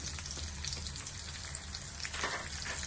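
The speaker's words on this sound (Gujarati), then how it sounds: "હવે આપણે એની અંદર ડુંગળી એડ કરી દઈશું" Onions and tomatoes sautéing in oil for pav bhaji, giving a steady close sizzle and crackle of frying with a few louder spits, no voices over it.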